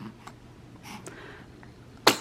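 A single sharp, loud sneeze bursts out near the end, following a few seconds of quiet room noise.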